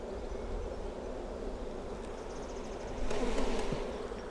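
Honeybees from a hive frame drone in a steady buzz, swelling louder for a moment as the frame is shaken into the hive in an apiary, with faint rustling.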